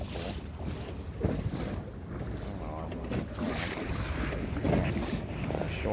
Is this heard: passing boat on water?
yes